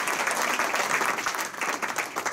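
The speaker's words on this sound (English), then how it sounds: "Let's give Tom a warm round of applause." A room of Rotary club members breaks into warm applause, a dense patter of many hands clapping close by for a couple of seconds.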